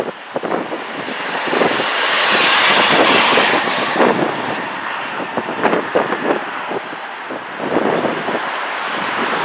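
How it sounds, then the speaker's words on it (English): A heavy Transat passenger jet taking off from runway 23 at Toronto Pearson: a loud, sustained broadband roar that swells and holds for about nine seconds, mixed with gusty wind buffeting the microphone. "We're clear for takeoff on runway 23 or Transat 684 heavy."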